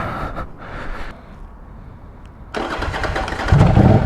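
A 2023 Norton Commando 961 SP motorcycle engine cranks and catches, then settles into a rough, steady running rumble, fairly close.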